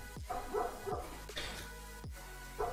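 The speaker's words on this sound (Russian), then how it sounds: "Я надеюсь, вам там собака не слишком сильно лает." A dog barks and yips several times in the background indoors, faint and somewhat distant, with short sharp calls scattered across a couple of seconds.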